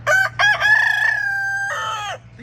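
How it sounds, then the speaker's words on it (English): A backyard rooster crows loud and close in one full call, with two short opening bursts and then a long sustained note, ending in a brief ragged tail over a steady low hum, with no talking. "This rooster has not crowed all day, and I turned the camera on."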